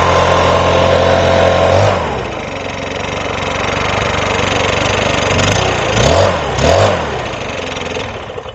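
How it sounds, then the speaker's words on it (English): A Stihl BR700 backpack blower engine runs loud and close, dropping from a high whine toward idle, then two quick throttle blips rise and fall near the end. "Blip that throttle and get it right back down to idle after it warms up for a few seconds."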